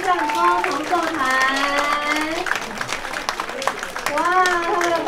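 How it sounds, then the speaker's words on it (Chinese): Applause from a concert audience at a New Year's Eve folk song concert, greeting a saxophone ensemble. Steady clapping runs throughout beneath an excited announcer's voice. "你们掌声不够啦，来，再次掌声"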